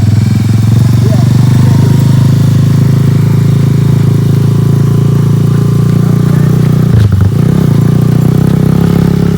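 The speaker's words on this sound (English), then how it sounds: "keep a steady rev. When you feel the bike go like that, you need more gas" Small motorcycle engine idling and revving steadily during a first riding lesson, a loud continuous low drone with a brief dip and surge near the end.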